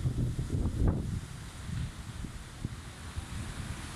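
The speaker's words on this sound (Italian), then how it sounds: "Eccolo lì, grazie Elena, con le onde del mare che si infrangono sulla riva, su questo scorcio davvero meraviglioso." Sea waves breaking on a shore in Sardinia, a steady broad wash of surf with a stronger swell early on, mixed with rumbling wind noise on the microphone, no voices.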